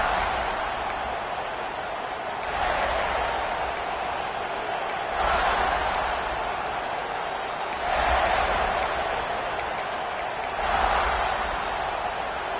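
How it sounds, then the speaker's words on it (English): A football stadium crowd at kickoff of a Gamecocks game against the Ducks roars in rhythmic waves, swelling and fading every few seconds as a broad, distant wash of noise. "This crowd ready to make its presence known."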